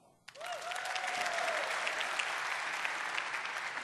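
Large audience at a developer conference keynote breaking into applause after a brief hush, a broad sustained roar of clapping with a faint whistle-like tone near the start.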